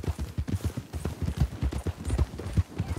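Horse hooves clip-clopping in the video game Red Dead Redemption 2 during roleplay, a rapid, steady run of low thudding hoofbeats throughout, fairly close, with no talk over them.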